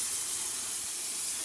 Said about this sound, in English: And now for the steamer